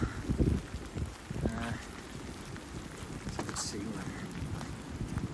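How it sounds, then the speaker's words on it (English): Steady rain pattering outdoors, a constant wash of noise with occasional louder drops and some low rumbling movement close by. "Sorry if you can't hear me much because of the rain."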